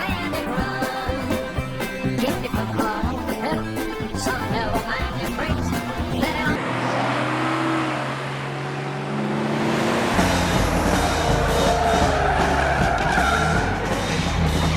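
A speeding semi-truck in the movie Smokey and the Bandit takes a corner with loud tire squeal and skidding, its engine roaring, mixed with driving film score and sound effects, with no talk.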